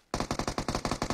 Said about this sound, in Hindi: मैं तो गोली चला चला के स्कोप चेक कर रहा हूं